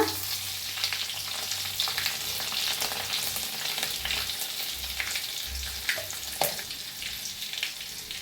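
Cumin, asafoetida and crushed garlic sizzle in hot oil in a pan, giving a continuous bright crackling hiss with scattered sharper pops, close and unaccompanied by speech.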